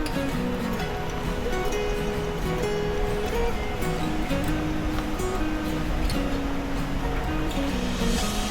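Steady, broadband rush of water at Bukal Falls, a continuous roar with no breaks that fills the scene at moderate volume throughout.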